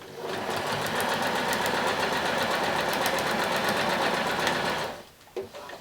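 A sewing machine stitches fashion doll tights in one loud, steady, rapid run of needle strokes that stops abruptly near the end, followed by a few soft handling sounds.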